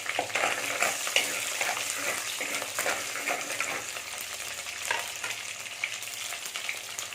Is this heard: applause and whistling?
no